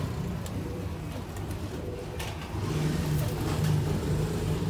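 Sialkoti roof pigeons give low, rolling coos that grow more prominent in the second half, over a steady rumble of passing traffic nearby.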